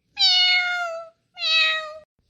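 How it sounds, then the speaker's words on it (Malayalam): A cat meows twice, close and clear, each call long and drawn out with a short pause between them. "ദേ കിങ്ങിണി പൂച്ച ഒന്നും തോന്നല്ലോ."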